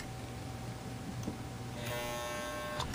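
A 1958 Kenmore sewing machine, model 117.841, hums and whirs as its motor runs, a faint steady mechanical drone that picks up a brighter, busier tone partway through.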